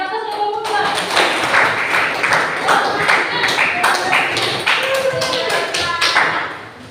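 Classroom applause for a student group of four, a steady patter of many hands clapping close by for about six seconds before tapering off, with faint voices mixed in.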